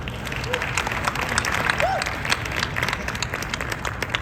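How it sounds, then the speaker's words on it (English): Audience applause at a Money 20/20 fintech conference session in Las Vegas, steady dense clapping from a sizeable crowd lasting the whole stretch, with a faint voice or two in the background. "give Adolfo a warm applause, please."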